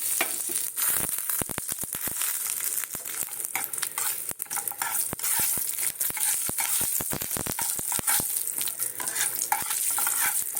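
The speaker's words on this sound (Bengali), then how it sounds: "এই সাইডে দেখো যে তেলে বড়ি দিলাম।" Lentil dumplings (bori) fry in hot oil in a home kitchen, a dense steady sizzle with frequent sharp crackles and pops running throughout, close and fairly loud, no voices.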